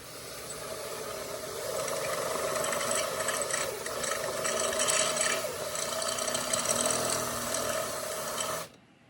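A worn drill bit runs slowly through an unclamped bumper-mounted vice mount with a steady, close, grinding whine that holds for about eight seconds and then stops abruptly.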